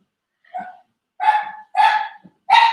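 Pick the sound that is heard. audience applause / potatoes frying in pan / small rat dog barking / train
small rat dog barking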